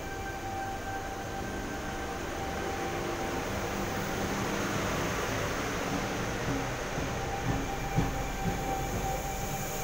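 Sydney Waratah train departing a station, a steady broad roar of the carriages rolling and building slightly, with a faint electric whine and a few light rail clacks near the end.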